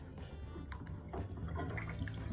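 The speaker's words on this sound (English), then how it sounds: "take out your drain stopper again" Sink water drains away after the stopper is pulled during hand washing of denim clothing, a faint, steady gurgling trickle with no talking.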